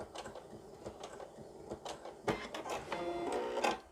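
A sewing machine stitches a backtack in short, quiet bursts of rapid mechanical whirring and clatter, stopping and restarting, with a denser run of stitching toward the end.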